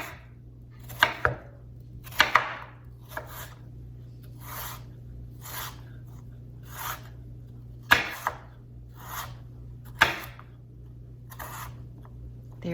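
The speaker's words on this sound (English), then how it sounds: "So if I was doing this without my shredder slicer, I would just make some fine slices like that." A knife slices kohlrabi into fine pieces on a cutting board: sharp, close chops come in small clusters with pauses between, over a low steady hum.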